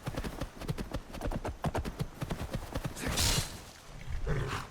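Horse hooves clip-clop in rapid, steady rhythm in Skyrim, close and loud, before the gait trails off into a brief rushing burst and softer movement.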